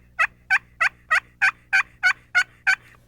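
Turkey call imitating a hen's putt: nine sharp, evenly spaced clucking notes in quick succession, crisp and close with nothing else heard.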